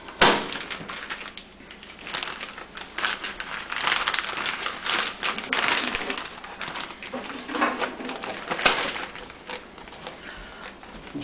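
A whole chicken sealed inside a gallon-sized plastic freezer bag, giving close crinkling and crackling plastic with uneven bursts of rustle throughout.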